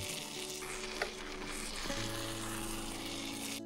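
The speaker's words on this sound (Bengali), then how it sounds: "এরপর আরো 1 মিনিট করে দুপাশ ভেজে নেব" Marinated tandoori chicken pieces fry in oil in a pan, giving a steady close sizzle with crackling and faint stirring throughout.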